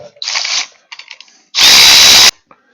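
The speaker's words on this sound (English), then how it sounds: "I can grab my cordless ratchet and tighten that down" Cordless ratchet tightening a 3/4 fastener on a MoJack EZ lift handle: a brief light rattle, then one loud, steady, close whirring burst lasting under a second.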